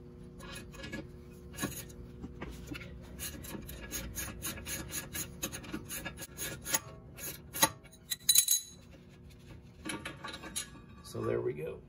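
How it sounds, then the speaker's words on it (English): Metal tools scrape, clink and rasp while the caliper bracket is worked off the front brakes of a BMW E36, with irregular clanks and a louder knock near the end, close by and without talk. "that's going to remove this caliper bracket, and that's going to allow us to take the rotor off"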